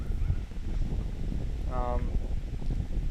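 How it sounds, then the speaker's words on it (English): Low, blustery wind rumbles steadily against the microphone during a golf tournament round, with a brief voice rising out of the noise partway through. "Yeah, it was a little windy this day."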